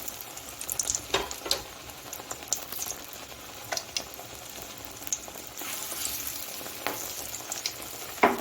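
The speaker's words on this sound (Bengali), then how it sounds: "শুধু বেসন দিয়ে আমি পকোড়াগুলো ভেজে নিচ্ছি" Pakoras in gram flour batter fry in hot oil with a continuous soft sizzle, punctuated by occasional sharper spatters and stirring clicks close by.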